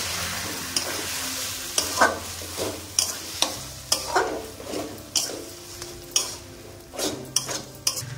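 Banana flower chop mixture for Bengali mochar chop, mixed with chaat masala and gram flour, being stirred in a pot with irregular soft scraping strokes and spoon knocks against the metal, fairly close, with no voices.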